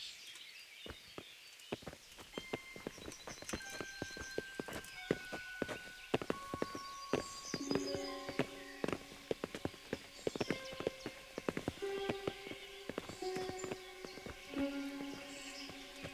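Horses' hooves clip-clop in steady, overlapping footfalls in the medieval video game Kingdom Come: Deliverance, several animals walking close by with soft game music beneath.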